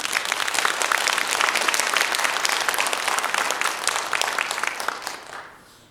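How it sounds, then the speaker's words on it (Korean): A seminary seminar audience claps in warm encouragement, a dense and steady wave of applause that holds strong for several seconds and then fades away at the end. "격려의 박수를 한 번 더 드립니다."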